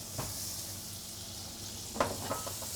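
A butter and oil mixture sizzling in a pan, a soft steady crackling hiss with a few brief louder spits and stirring clicks.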